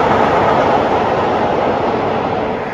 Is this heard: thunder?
no